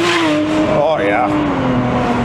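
BMW with an N54 engine spinning its wheels, tires squealing in a loud sustained wail with rising and falling pitch over a droning engine, with voices talking over it.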